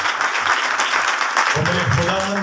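Loud, sustained clapping from a congregation inside a church, filling the space throughout, with a voice rising over the applause in the second half.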